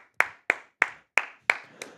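Football player clapping on the field during a Raiders vs. Jaguars game, six sharp, close claps spaced about a third of a second apart, the last one softer.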